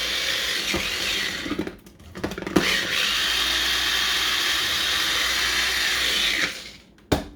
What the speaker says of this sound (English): I'm gonna process it a little bit more, chop it a little bit more